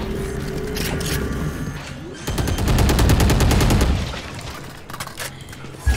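Gunfire in a Valorant match rings out as single shots, followed by a dense rapid burst of automatic fire lasting a couple of seconds, then scattered shots under game ambience.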